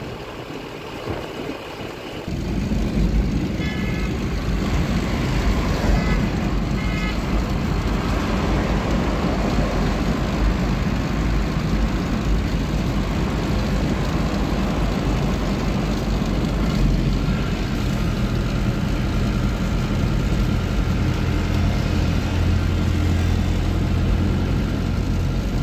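Vehicles racing along the Purbachal 300 Feet road, a loud, steady engine roar that starts abruptly after a brief quieter moment and holds close and continuous to the end.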